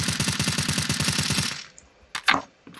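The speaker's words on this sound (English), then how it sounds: "Give us a weapon and shoot." Rapid automatic gunfire from a weapon in Counter-Strike: Global Offensive, a fast even burst of shots lasting about a second and a half, followed by a few sharp clicks and clatters.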